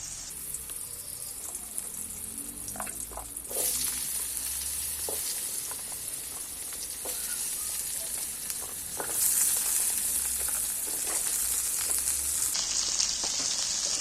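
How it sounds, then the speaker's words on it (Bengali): Cut potatoes and kohlrabi fry in a generous amount of hot oil, a loud continuous sizzle that swells as more pieces go in, with occasional stirring clinks and scrapes. "আলুটা তেলের মধ্যে আমি একটু নাড়াচাড়া করে বেশ ভালো করে ভেজে নিই"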